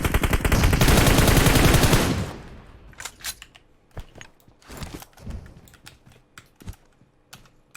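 Loud, dense automatic gunfire in PUBG Mobile fills the first two seconds, then gives way to scattered sharp cracks and tapping sounds at varying distances.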